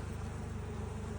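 Dense low hum of honey bees buzzing on a frame of a recently split hive, steady and close, with no voices.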